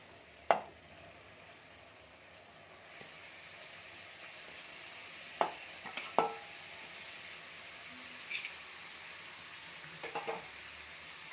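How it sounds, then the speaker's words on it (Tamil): Cleaned mutton intestines go into oil-separated masala in a pan and are stirred, giving a faint steady sizzle with a few sharp utensil knocks and scrapes scattered throughout, and no one speaking. "இப்போது இதில் நம்ம கழுவி சுத்தம் பண்ணி வச்சுருக்க குடலை சேர்த்துடலாம்"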